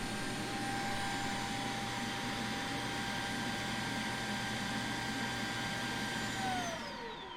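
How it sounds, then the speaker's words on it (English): Shark Matrix Plus 2-in-1 robot vacuum dock extracting dirt, a steady loud whirring suction drone with a constant hum that holds evenly, then winds down with a falling whine at the end. "The dock has just extracted all the dirt."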